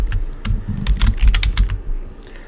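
Rapid keystrokes on a computer keyboard: a close, fairly loud burst of irregular clicks and taps that thins out toward the end, with no talking.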